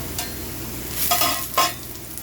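Tortilla strips for chicken tortilla soup sizzle and crisp in a pot, with a constant frying hiss that swells twice into louder bursts as they are stirred, heard up close with no talking.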